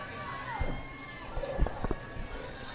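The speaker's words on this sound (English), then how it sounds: "The crowd is hyped for this one, folks." Crowd at a junior roller derby bout cheering and shouting in a moderate, spread-out roar, with scattered claps and skate thuds, while an announcer talks over it.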